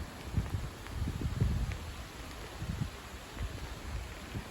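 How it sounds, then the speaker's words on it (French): Gusty, strong north wind during an April rain shower buffets and rumbles in low, uneven bursts, with a faint rustle in the background and no voices. "un vent de nord très vigoureux."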